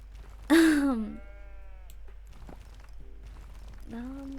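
A cartoonish sheep in the video game Tiny Glade gives a loud, close bleat, then a softer second bleat a few seconds later, with light footstep-like clicks between them.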